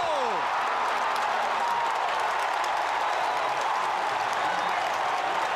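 North Carolina basketball fans cheer at the 1982 Final Four game against Houston, a broad, steady crowd roar filling the arena with scattered clapping.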